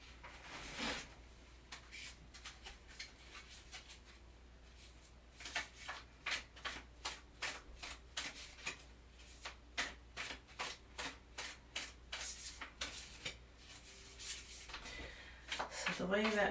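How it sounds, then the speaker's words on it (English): Tarot cards shuffled by hand in a quiet room, a run of rapid crisp riffling bursts in uneven rhythm after a brief early burst, close and soft, with no talking. "I am going to start shuffling."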